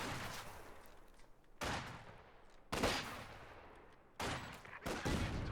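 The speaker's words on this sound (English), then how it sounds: "Oh, that's a beastly rifle grenade." A rifle grenade explodes during a Company of Heroes 2 match, one of several sharp, heavy bursts of blast and gunfire that strike at intervals over a fainter, steady battle wash.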